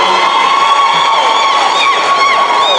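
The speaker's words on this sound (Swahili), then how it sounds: "tuwapigie makofi tafadhali viongozi wetu wanaposalimiana kwa mkoana" A large crowd at an ODM party meeting at Bomas cheers and shouts in a loud, continuous roar with whistles and whoops, heard close and without a break.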